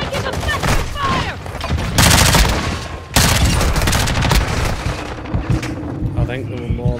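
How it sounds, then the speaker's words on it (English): Dense video-game gunfire from a military shooter crackles in loud, sustained bursts with heavy booms, close and continuous, while voices and radio callouts about taking effective fire sound intermittently over the battle. "You are taking effective fire."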